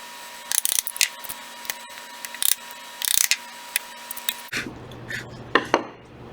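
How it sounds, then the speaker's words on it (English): A chisel scrapes and clicks along the bottom edge of milled wood, with irregular bursts of sharp scraping and tapping, close and fairly loud, with no voices. "I can just come in and clean up the bottom edge with my chisel"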